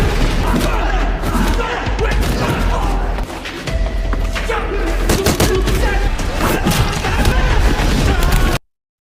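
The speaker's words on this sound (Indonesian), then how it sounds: "sedangkan Cetan sendiri terkena tembakan" Gunfire in an action film about a gang boss seeking revenge on a Thai mafia boss: rapid bursts of shots and heavy thuds come in close succession, loud and continuous, with brief gaps between volleys.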